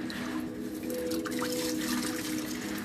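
Water running and dripping off freshly cleaned sneakers set to drain, a soft continuous trickle with faint scattered drips under a low steady hum.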